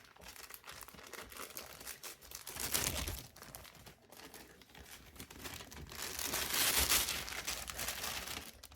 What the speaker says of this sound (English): Got a piping bag here. I'm going to cut a hole in the end of it so I can put my piping tip in there.